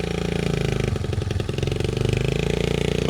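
A motorcycle engine runs on a road with a steady, rapid putt-putt pulse and a dense low drone, close and continuous, with a slight dip midway and no speech.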